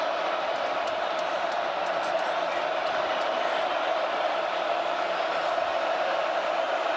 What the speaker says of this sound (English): Penn State crowd winding it up for their defense here on 2nd down and 10.